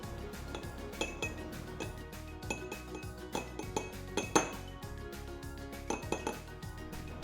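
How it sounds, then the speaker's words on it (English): A spoon clinks against a dish while two teaspoons of cornstarch go into a warm hemp seed healing balm mixture, giving a run of light metallic taps and chimes, fairly close, with no talking. "Now I'm gonna add 2 teaspoons of cornstarch."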